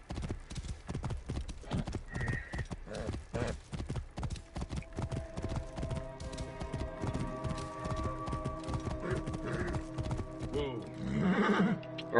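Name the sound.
horse hooves and neighing in video game Assassin's Creed Origins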